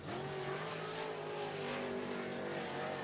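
A dirt track race car laps Cottage Grove Speedway in Oregon, its engine a steady, loud droning roar with slowly shifting pitch, continuous throughout and with no voices over it.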